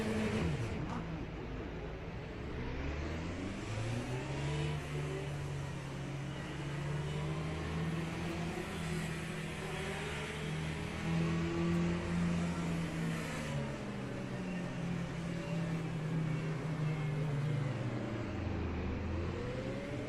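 Race cars on a formation lap in Le Mans Ultimate: a continuous engine drone rising and falling in pitch as the car accelerates and eases off, steady and close throughout, with faint other cars in the mix.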